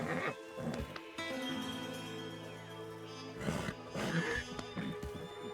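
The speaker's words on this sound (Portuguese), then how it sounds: "Esse cavalo é um lindo garanhão." A horse in the Red Dead Redemption video game gives a few snorting, whinnying calls in short bursts, fairly close, over a quiet ambient music bed.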